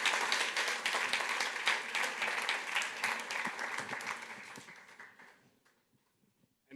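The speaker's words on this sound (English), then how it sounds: "Please give a big round of applause to our speakers." Conference audience applauding speakers at a data collaboration summit in Paris, a dense steady clapping that carries on for several seconds before thinning out and fading to near silence.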